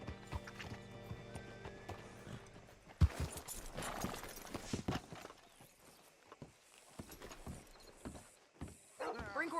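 Horse hooves clip-clop in the game Red Dead Redemption 2, scattered clops under low background music, broken by a sharp thump and a whinny. Someone speaks in the middle of it.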